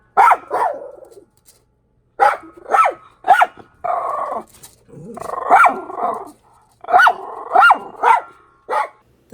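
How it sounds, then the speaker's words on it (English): Dogs bark at land crabs in a series of loud, close barks, some single and some in quick pairs, with growling in between and short silences separating the bursts. "The dogs would bark."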